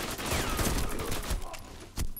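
Gunfire in a shooter video game, rapid bursts of shots crackling loudly over about two seconds, with a pause and a final sharp shot near the end, under faint game noise.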